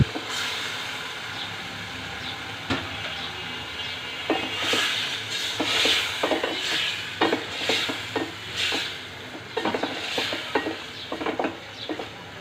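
Cut and washed bata fish going into spices frying in a pan, a steady sizzle broken by clattering stirs and scrapes of a utensil against the pan, close up, no voices.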